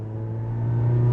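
A supercharged Toyota Yaris GRMN hatchback engine revs with a steady, buzzing drone that climbs slightly in pitch and loudness, heard up close with no voices.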